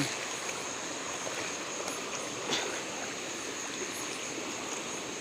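A mountain stream flows through a hillside gully at night, giving a steady, broadband rush of running water that holds at one level from start to finish, close by and continuous, with no voices.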